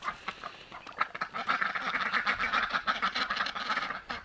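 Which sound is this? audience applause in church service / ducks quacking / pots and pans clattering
ducks quacking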